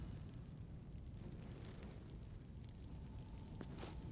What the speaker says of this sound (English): Oh, rigged fireworks.